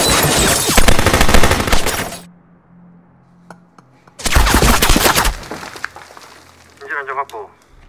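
Gunshots in a film scene: two loud, close blasts a couple of seconds apart, each with a dense, sustained burst of noise before cutting out, followed by a faint voice.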